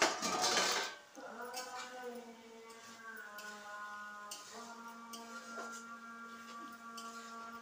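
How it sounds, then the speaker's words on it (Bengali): Fried pointed gourd pieces tipped into a pan of cooked-down masala with oil separating, giving a loud burst of clatter and sizzle for about a second, then a quieter steady tone with a voice. "এখন আমি এই ভেজে রাখা পটলটা দিয়ে দিচ্ছি"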